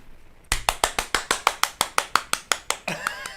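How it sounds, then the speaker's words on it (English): A rapid, evenly spaced run of about fourteen sharp hand claps rings out loud and close, a fancy clapping routine on a radio show, trailing off into a brief noisy tail. "before that was a fancy hand clap there"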